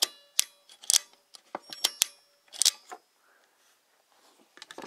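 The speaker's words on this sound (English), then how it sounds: "It's got your shutter button on the side there. You press that as many times as you want to." The shutter button on a vintage Kodak camera is pressed repeatedly, giving about eight sharp, close mechanical clicks at an irregular pace, with quiet gaps between them and a few softer handling clicks.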